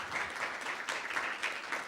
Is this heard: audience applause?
yes